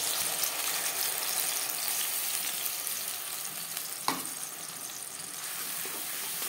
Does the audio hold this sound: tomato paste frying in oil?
yes